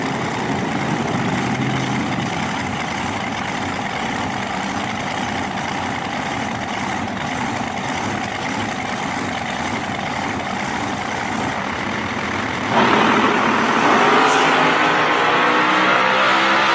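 Loud American dragster idling and rumbling steadily at a drag strip, a deep continuous engine drone that suddenly swells louder near the end, no talking heard.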